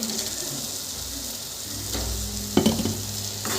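Boiled eggs being stirred into a sizzling tomato curry, with a steady fry hiss and a few soft spoon scrapes and knocks against the pan near the end.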